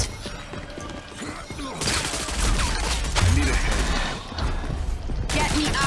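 Gunfire in the shooter game Rogue Company, bursts of shots and impacts starting after a quieter opening, dense and loud through the middle with brief gaps, with a voice faintly underneath.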